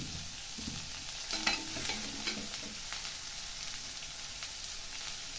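Kanthari chilies and curry leaves fry in a pan with a constant soft sizzle, while stirring adds intermittent clinks and scrapes against the metal.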